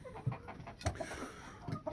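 Chickens cluck in short, repeated low calls inside a tent, close and fairly soft, with a few louder clucks spaced across the moment and no talk.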